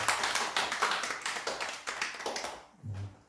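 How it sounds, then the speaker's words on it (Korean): A church congregation claps to welcome a first-time member at a Sunday service, a brisk burst of many hands that fades after about two and a half seconds, followed by a brief low murmur. "우리 박수로 환영하겠습니다"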